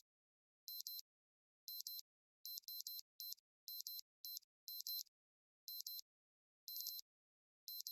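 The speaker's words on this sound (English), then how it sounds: "An alarm is ringing." An electronic alarm rings in the video game Unmemory, sounding as irregular bursts of high, buzzy beeping, a dozen short pulses separated by silent gaps, clean and isolated with no other sounds.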